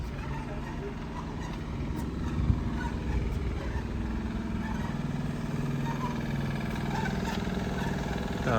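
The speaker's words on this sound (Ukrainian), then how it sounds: "Тут іде якась робота, два маленькі, один екскаватор, другий якийсь тракторець." Small excavator and a little tractor working on a site near Schloss Homburg, a steady low engine rumble running throughout at moderate distance.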